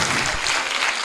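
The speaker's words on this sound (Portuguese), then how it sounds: "Queria aqui uma salva de palmas para o senhor Peter Welper." An audience applauds during a lecture, a dense, steady wash of clapping hands that fills the whole moment at an even loudness with no voices over it.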